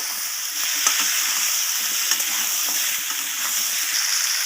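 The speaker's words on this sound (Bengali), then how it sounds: "এখানে আমি ভালোভাবে তেলের সাথে মিশিয়ে ভাজা ভাজা করে নিচ্ছি" Potatoes and pumpkin pieces frying in oil for a prawn curry, a steady close hiss of sizzling with occasional scraping clicks as the spatula stirs them.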